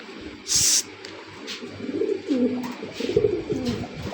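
Pigeons at a pigeon farm coo in low, repeated rolling murmurs amid light barn noise, with a sharp hiss or rustle near the start.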